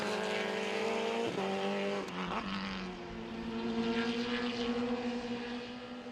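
Racing cars in an MRF Challenge race passing the timing line, with high engine whines sweeping past from mid-distance and a steady roar afterward.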